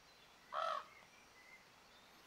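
A single crow caw rings out in the video game The Quarry, one short loud call standing out against a quiet ambient background, with no talking over it.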